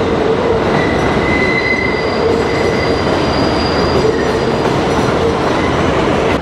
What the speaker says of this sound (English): So that was the 7 train